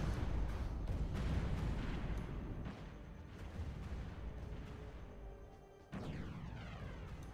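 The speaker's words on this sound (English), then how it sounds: "Look at the explosion." Ships exploding during a Stellaris space battle, a run of dense, loud booms and crackling blasts that thin out, then a fresh burst with a ringing, falling tail near the end; no talking.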